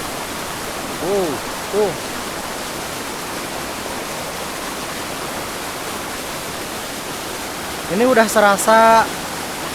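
A waterfall and flowing river at Leuwi Kanyere in Cibuluh Land, Sentul, Bogor, give a steady, full rush of water throughout, while a person speaks briefly over it near the start and again near the end.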